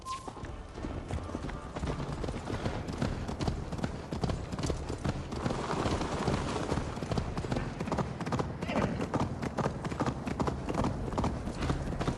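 Horse hooves clop at a steady galloping rhythm in Assassin's Creed Valhalla, loud and close, with the rolling rumble of movement throughout.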